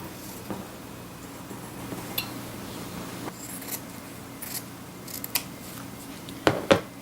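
Scissors snip through fabric while prairie points are cut for sewing, giving a few faint, sparse cuts over quiet room tone, with a couple of sharper snips near the end.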